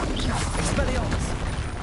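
Expelliarmus disarming spell cast in the video game Hogwarts Legacy, a dense burst of magical combat effects with crashing, whooshing impacts layered over a busy, loud game soundscape.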